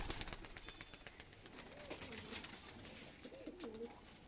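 Racing pigeons back from a 21 km race coo faintly amid a loud hiss of wind or noise, with a few soft warbling calls and possible wing flaps in the middle.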